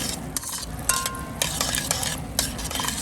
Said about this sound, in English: now be patient and just stir this guy up